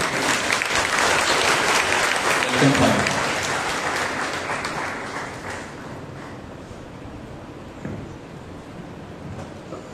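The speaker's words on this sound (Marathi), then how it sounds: "परमेश्वराला टाळ्या देऊन फादरांबद्दल आभार मानू. थँक्यू. जोरदार टाळ्या." A church congregation gives a priest loud, dense applause that swells early and then thins and fades away over several seconds, with a brief voice speaking near the start.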